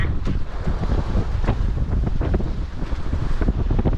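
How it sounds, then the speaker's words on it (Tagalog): Strong wind gusts over big rolling waves on the West Philippine Sea, a loud, steady buffeting rush with churning water close by and no voices. "Ang lalaki ang alon ngayon"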